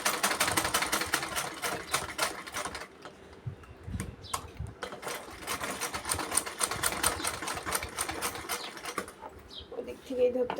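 Domestic sewing machine stitching cloth at home, a rapid mechanical whir for the first few seconds, then a pause with light handling noise before the stitching resumes and runs steadily, with faint background sounds.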